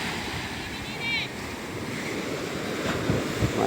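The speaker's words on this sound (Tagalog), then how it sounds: "Wait lang. May alon pa." Ocean waves wash and churn steadily with wind rushing over the microphone, while a voice speaks faintly in the background.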